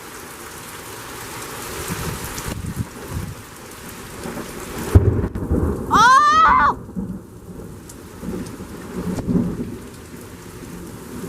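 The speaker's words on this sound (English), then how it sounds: "There's rain sheets." Heavy rain pours steadily in a severe storm with gusty winds, a thunder rumble rolling through midway, and a man briefly exclaims over the downpour.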